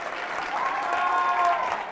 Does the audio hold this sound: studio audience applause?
yes